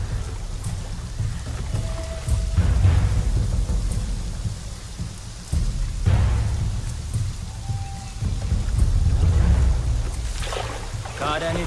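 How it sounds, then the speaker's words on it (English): Rain and thunder in the PC game Shadow of the Tomb Raider play as a continuous downpour with several deep rumbling thunder rolls, loud and close throughout. "This would be easier if it wasn't raining."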